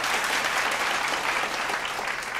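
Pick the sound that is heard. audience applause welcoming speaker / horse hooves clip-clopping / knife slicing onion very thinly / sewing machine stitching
audience applause welcoming speaker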